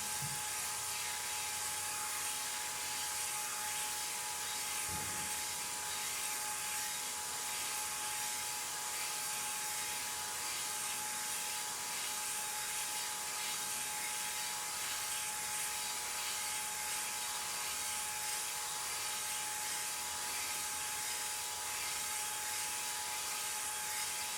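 A cylinder honing tool spins inside an engine cylinder barrel, making a faint, steady whirring hiss that runs unbroken, with a single soft thump near the start.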